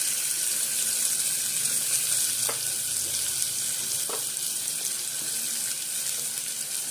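Garlic and chopped onions sautéing in a pan, a steady bright sizzle running continuously and close, with a couple of faint knocks from a utensil and no voices.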